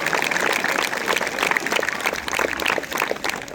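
Schoolchildren clap loudly together at a school gathering, a dense, steady burst of applause lasting the whole stretch with little else over it.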